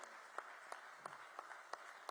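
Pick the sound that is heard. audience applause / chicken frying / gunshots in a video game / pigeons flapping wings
audience applause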